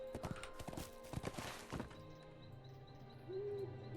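Horse hooves clip-clop from a mount in the Lord of the Rings Online game, an irregular run of soft thuds mixed with other game effects, then fading under a steady tonal ambience and a brief whinny-like cry near the end.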